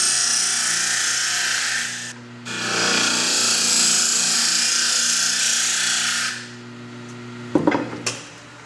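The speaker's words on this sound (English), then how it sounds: "You cut a little downhill with it. It's a pulling cut." A hook tool makes a pulling cut into wood turning on a lathe for a lampshade, producing a loud, sustained hiss and rush that breaks off briefly, resumes, then stops with a few knocks near the end.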